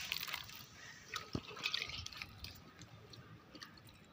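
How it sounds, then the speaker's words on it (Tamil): Water is sprinkled by hand over freshly sown amaranth seeds in soil, giving faint, scattered drips and soft patters in an irregular rhythm. "இப்போ தண்ணி தெளிச்சு விட்டுக்கலாம்."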